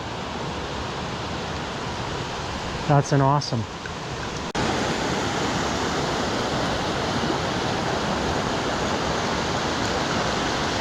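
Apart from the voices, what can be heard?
three waterfalls joining into one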